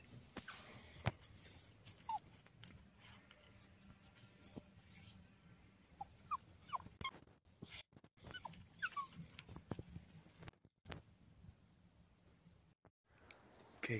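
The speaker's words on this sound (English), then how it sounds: "Here we see Niles whimper impatiently, as he has found the scent of prey." A dachshund out in the wild, on the scent of prey, gives a series of faint, thin, high whimpers, scattered and intermittent over soft rustling and scuffing in the dirt, with no talking.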